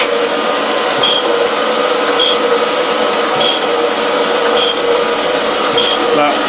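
A grinder with a 46 grit K wheel works a steel quick-change tool holder of the Dickson type, making a steady, loud broadband hiss and whine that runs without a break.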